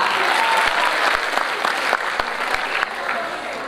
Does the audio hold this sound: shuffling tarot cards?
no